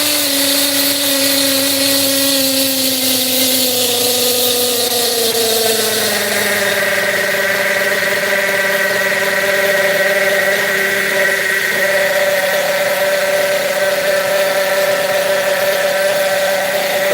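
Kyosho GT1 nitro RC car with a new, tight engine running steadily, a loud buzzing drone whose pitch drops partway through and then holds at a lower idle-like tone, alone without talk.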